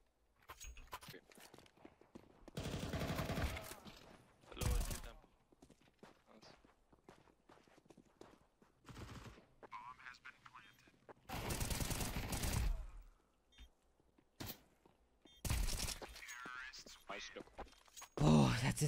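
Submachine gun fire in a competitive online shooter on FACEIT crackles in several loud rapid bursts spread across the stretch, with quieter footsteps and game noise between them.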